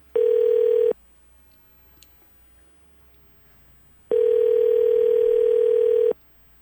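A steady telephone tone sounds for under a second, goes quiet for a few seconds, then returns for a longer two-second stretch.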